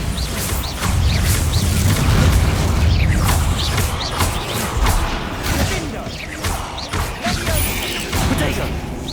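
Spell blasts from a fantasy action game boom and crash repeatedly over a dense, loud bed of game effects, with whooshes and thuds throughout and a player shouting intermittently.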